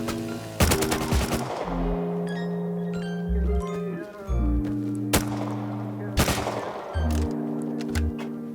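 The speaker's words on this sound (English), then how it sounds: "I heard some gunshots on a nearby island" Sharp gunshots from the video game Rust crack out in scattered bursts over droning background music, some single shots and some quick clusters, fairly loud and close.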